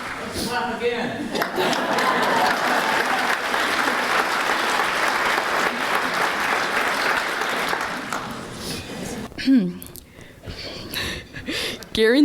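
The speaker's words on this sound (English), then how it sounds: "Clap again." Audience applause fills a foster care advocacy event, a sustained loud wave of clapping lasting several seconds before fading, followed by a few scattered claps and brief reactions.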